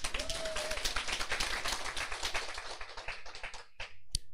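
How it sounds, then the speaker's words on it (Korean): Audience clapping at a business lecture, a brisk burst of many hands applauding together that thins out and trails into a few scattered final claps. "박수 한번 쳐요, 박수 한번."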